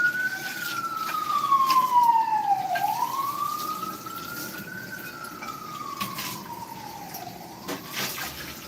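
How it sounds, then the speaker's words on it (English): A wailing emergency siren sweeps up and down in long slow cycles, moderately distant, over a low background rumble with no voices. "No matter what video I do, you hear sirens in the background."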